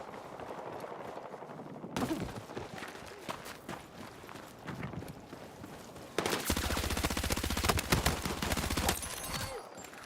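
Sustained machine gun fire in the Battlefield 6 video game, rapid dense bursts that start after a moment, break off, then return as one long loud continuous stream of shots.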